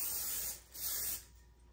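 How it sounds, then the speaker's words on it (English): Two bursts of Pam cooking oil spray hissing close by onto a pan, each about half a second long with a short pause between them. "I coated my pan with a little Pam."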